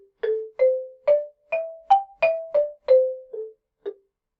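Xylophone plays the la pentatonic scale of C pentatonic starting on A, ten evenly spaced struck wooden bar notes stepping up and back down, clear and alone.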